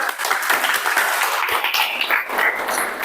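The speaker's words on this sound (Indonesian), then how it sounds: "Tepuk tangan dulu dong" Audience applause in a classroom session on funeral prayer: a steady wash of many hands clapping for about three seconds, moderately loud, with no talk over it.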